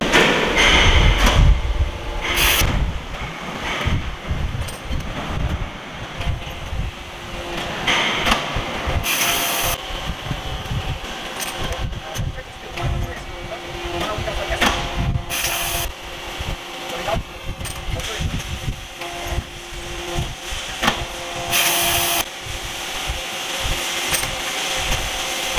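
An automatic coin minting machine processes gold, silver or copper blanks, giving repeated sharp mechanical clanks and sliding, rubbing strikes at irregular intervals over a busy workshop background.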